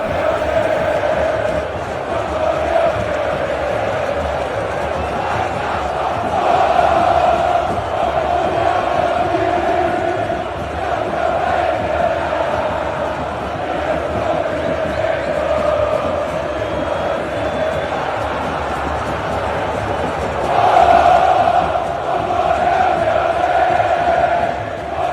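Botafogo supporters at Morumbi stadium in São Paulo celebrate a semifinal qualification. The crowd roars and chants in a sustained, loud wash of voices that swells near the end.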